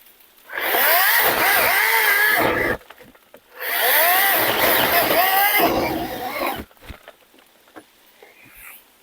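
A cordless chainsaw roars through wood in two long bursts with a short pause between, the bar getting stuck, then quiets to scattered knocks and rustling.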